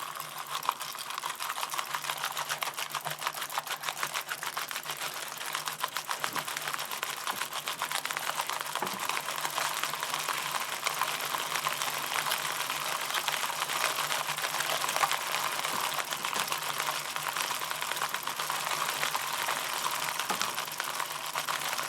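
A bicycle chain cranked through a White Lightning chain cleaner tool filled with undiluted Simple Green: a continuous close whirring, ticking rattle with a wet hiss, steady and unbroken for about twenty seconds.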